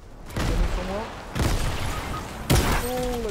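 Three loud blasts of explosions and gunfire from a squad-mode shooter video game, each a sharp booming crack trailing into rumble, with someone speaking between them.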